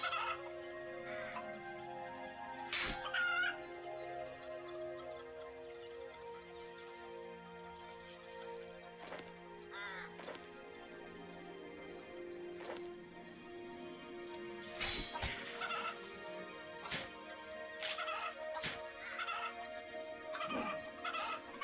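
Chickens in RuneScape 3 cluck and squawk in short, repeated bursts over a faint musical background, several sharp calls scattered across the clip at close range.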